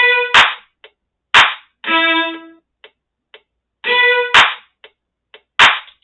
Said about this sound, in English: the clap needs to come sooner